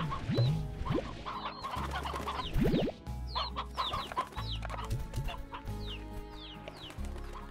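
In the video game Slime Rancher, a rooster and other fowl cluck and chirp repeatedly at close range over a continuous game soundtrack, with no one talking.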